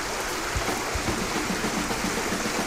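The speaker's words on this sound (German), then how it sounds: "Hier ist nämlich ein Fluss." A small river on a hiking trail in Luxembourg's Müllerthal, a loud, continuous broadband rush of flowing water close by, steady throughout with no voices.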